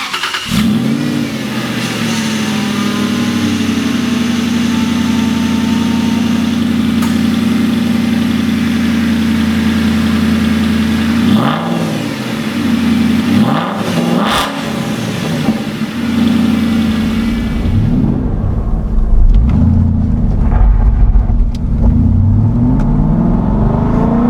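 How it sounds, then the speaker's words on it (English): An Aston Martin V8 Vantage idles close by with a steady, deep burble, blips its throttle in a few sharp revs midway, then settles back to a lower rumble. "Engine's got that amazing growl to it."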